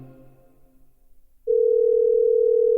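Steady continuous telephone tone on a call to a credit union, cutting in abruptly halfway through after a brief faint hum and lasting to the end, loud and alone.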